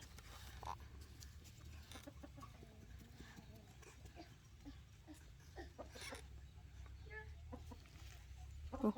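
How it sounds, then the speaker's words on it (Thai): A chicken clucks faintly in scattered short bursts while being played with, set against a quiet, low background rumble with occasional soft sounds and murmuring voices. "ไก่"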